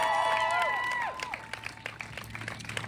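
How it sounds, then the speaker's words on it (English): A May Day union walkout rally crowd breaks into applause and cheering, dense clapping and shouts that thin out into scattered claps, with voices calling out over it. "Big round of applause."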